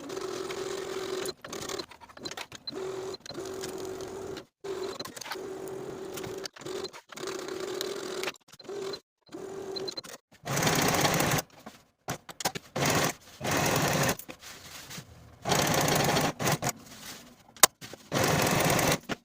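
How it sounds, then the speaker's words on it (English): A sewing machine stitches pocket and lining pieces together with a 5/8 inch seam, running in short bursts with stops between, then longer, louder runs of rapid needle chatter. "Then sew the pocket and the lining pieces together as pinned with a 5/8 inch seam allowance"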